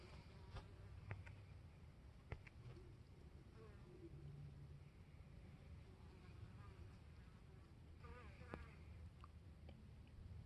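Bees buzzing outdoors on an afternoon: a faint, steady drone of many insects, with individual bees flying close by now and then and a few soft clicks.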